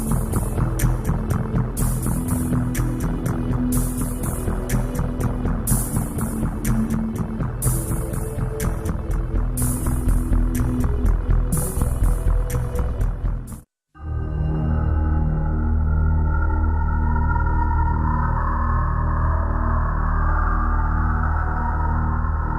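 A plate flattening machine in a Crimean metalworking plant runs as a loud, dense mechanical throb with a rapid pulsing texture. It cuts out abruptly, then a heavy, steady low hum carries on.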